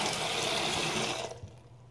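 Water rushes steadily into a homemade squishy water bottle as it is rinsed out, a broad hissing wash that runs for over a second before cutting off abruptly, leaving only faint residual trickling.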